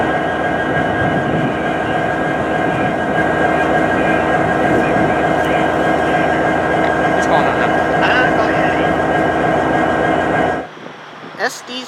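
An EMD SD70 diesel locomotive on a snowy winter day in central Ohio, with a loud, close and steady engine drone and rumbling train noise that cuts off near the end.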